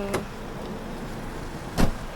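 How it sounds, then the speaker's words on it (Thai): A door on a 2010 Hyundai H-1 2.5 Maesto Deluxe van thuds shut in one loud, close slam, preceded by a fainter click. "ขออนุญาตปิดประตูก่อน"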